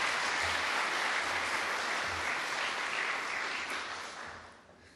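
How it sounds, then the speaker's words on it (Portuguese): Dense, steady applause from a large audience at a plenary session of a church congress, welcoming the speaker Justo González; the clapping holds strong, then tapers off near the end. "Vamos recebê-lo com uma salva de palmas."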